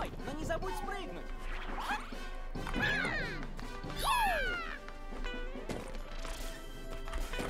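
Blocks being smashed in Super Mario Bros Wonder, several sharp crashing hits scattered among bright game sound effects and background music, with people talking throughout.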